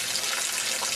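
Spring water pouring out of a cast iron pipe in Maine: a continuous close, splashing rush of flowing water, steady and fairly loud.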